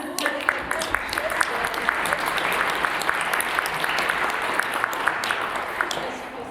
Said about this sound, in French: je vous demande donc d'applaudir à nouveau le nouveau rédacteur en chef.